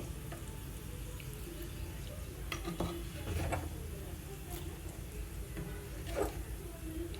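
Grated boiled raw mango stirred into mango pulihora, with a steady gritty scraping of a spoon through rice in a pan and occasional metallic knocks, close and moderately loud.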